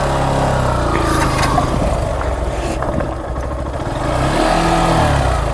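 A Hero Xtreme 125R and a Yamaha FZS V3 rev and pull away in a motorcycle drag race. Their engines give a steady, close, mid-pitched drone that dips briefly in the middle before swelling again.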